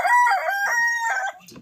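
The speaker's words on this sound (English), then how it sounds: "My 2 really giant roosters right here, Yellow Legs and Daisy." A very large rooster crows loudly and close by, one full drawn-out call with several harmonic bursts ending in a trailing note.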